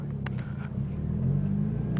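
A car engine on a night street drones low and steady, its rumble swelling slightly as the car accelerates past, fairly loud and close with no voices.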